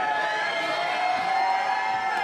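A wrestling event crowd roars and cheers continuously, a loud, steady wash of many voices that stays level throughout the short stretch.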